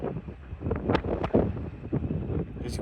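Strong outdoor wind buffets the microphone in uneven gusts, a rough low rumble that swells and dips with a few sharper bursts.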